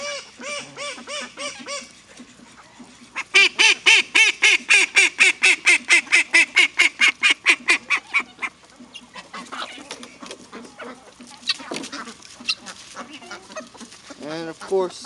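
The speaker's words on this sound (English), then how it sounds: "the Muscovies are the first one to check out the pool" Muscovy ducks and a young rooster from this year's hatch at a filling backyard pool, giving a long run of rapid, rhythmic honking calls, then scattered squawks and softer clucks, close and loud.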